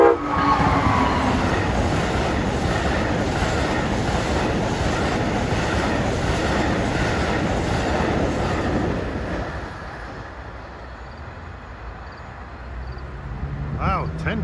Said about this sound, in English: Here comes Amtrak 137 from Boston to Washington.